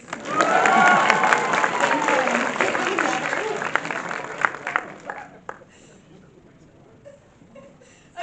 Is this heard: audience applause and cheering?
yes